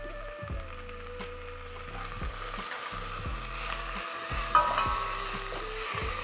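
Onions frying in a pan until soft make a continuous soft sizzle and crackle, with a steady low background hum and one brief scrape near the end.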